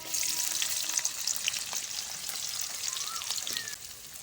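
Finely chopped onion sizzles in hot oil, a dense, even crackling hiss held close throughout, with faint clinks in the background and no one speaking.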